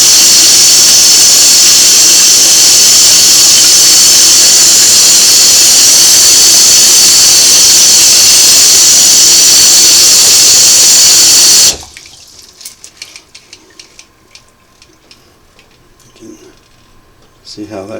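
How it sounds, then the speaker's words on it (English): A faucet gushes at full force onto small cleaned Singer Model 404 sewing machine parts in a sink, a loud steady rush for about twelve seconds, then cuts off to quiet clinks and handling. "let's go ahead and rinse these now"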